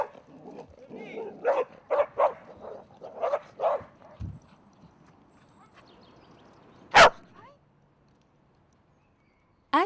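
A domestic dog gives a quick run of short, close barks and yips, falls quiet, then lets out one louder sharp yelp before silence.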